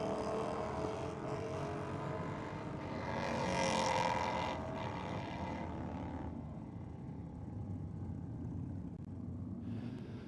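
A drag racing motorcycle at Sydney Dragway launches down the strip on bike night, a loud sustained engine roar that swells around the middle and then fades away into the distance.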